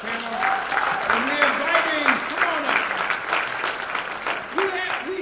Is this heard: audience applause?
yes